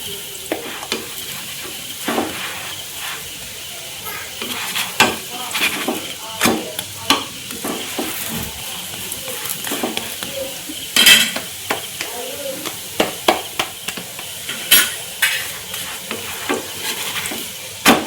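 Thalipeeth frying in a pan gives a steady sizzle that runs throughout. Frequent clinks and scrapes of a spatula against the pan break in at irregular moments.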